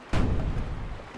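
A naval cannon explosion plays in a game editor as a single deep, booming blast that lands sharply and then rumbles on at a steady level without fading.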